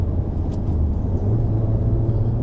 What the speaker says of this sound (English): just before I release the clutch, I'm going to rev the engine.